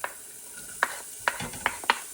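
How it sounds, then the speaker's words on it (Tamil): Mustard seeds in hot oil in a cooking pot give a few sharp, close pops and spatters spaced apart over a quiet background sizzle. "இப்போ எண்ணெய் சூடாகி கடுகு வடிக்கிட்டுது. இப்போ நாங்கள் வெங்காயத்தை போடுவோம்."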